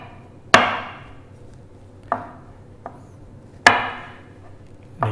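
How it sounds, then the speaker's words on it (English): Olives chopped on a cutting board for Spanish ensaladilla rusa: five sharp knife strikes at uneven intervals, each a crisp, close thud with a short decay, with no voices. "the olives have to be chopped"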